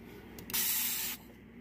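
A single short hiss of a Dawn Powerwash dish spray bottle, close and fairly soft, lasting about half a second amid quiet background.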